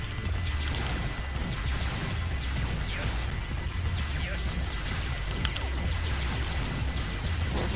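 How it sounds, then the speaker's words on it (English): Meteors smashing and bursting in the Sonic Adventure 2 Battle game: a dense, continuous clatter of crashes and pops with a steady busy game soundtrack underneath, loud throughout. "We are getting points for running into those meteors for whatever that's worth."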